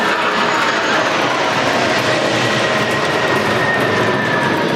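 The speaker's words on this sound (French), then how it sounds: "Alors c'est des A330. MRTT plus précisément. Les Phoenix." Airbus A330 MRTT Phoenix tanker aircraft flies past during a Bastille Day flyover, a loud, steady jet engine roar that holds throughout without fading, with no voices.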